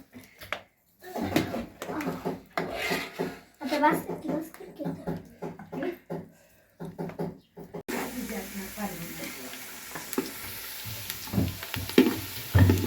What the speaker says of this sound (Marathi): आता तेलात कांदा भाजा लागलो